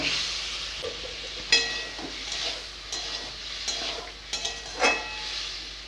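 Water and fried taro go into a rohu fish curry cooking in a pan. The result is a soft, continuous sizzle and hiss, with several sharp clinks and splashy bursts as pieces are added and stirred.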